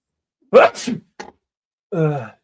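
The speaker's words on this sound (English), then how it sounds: "Oh, I have to sneeze." A single sharp sneeze with a gasping intake, followed by a brief click and a short sigh-like exhale, close and alone.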